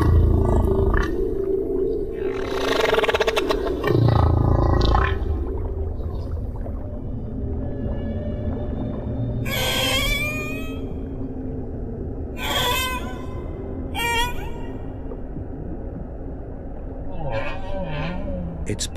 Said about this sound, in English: It's possible that humpbacks have been singing their extraordinary, complex songs for millions of years.